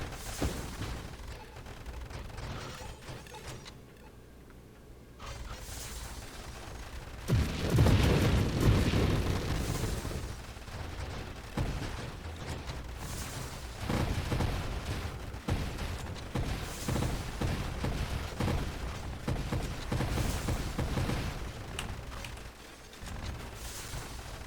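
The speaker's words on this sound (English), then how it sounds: "turrets and your allies just auto-fire on targets" Turret and allied guns in the space shooter Nova Drift auto-fire on targets, a dense, continuous barrage of booms and bursts layered over game music, swelling louder midway and staying busy to the end.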